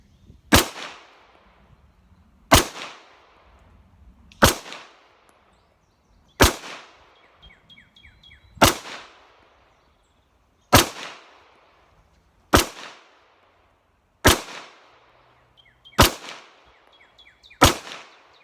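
Sharp, loud single shots from an FN Browning Hi-Power 9mm pistol ring out outdoors about every two seconds, roughly nine in all, each followed by a short echoing tail and near silence between.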